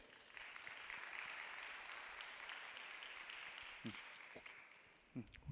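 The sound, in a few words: congregation applause welcoming someone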